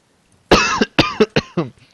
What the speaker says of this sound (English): When he's done coughing.